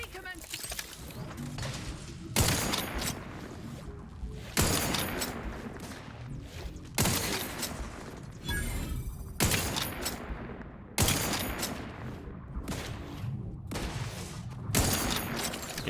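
Weapon fire in the sci-fi shooter The Outer Worlds 2, repeated sharp bursts of shots about every two seconds with echoing tails, mixed with game sounds and occasional speech.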